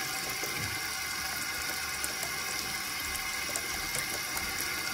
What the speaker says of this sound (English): we gotta get the water on